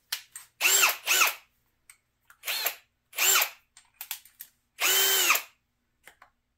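Cordless power drill fitted with a Phillips bit runs in short whirring bursts of varying length, about five main pulls separated by silence and small clicks, close and loud.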